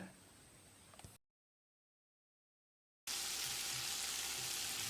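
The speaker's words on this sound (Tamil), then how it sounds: "மீடியம் சைஸில் ஒரு தக்காளியை நறுக்கி வச்சுருக்கேன், இதை போட்டு வதக்கிடலாம்" Chopped medium tomato sautéing with onions in a pan for an egg gravy, a steady close sizzle that breaks off into silence for about two seconds, then returns louder and hissier.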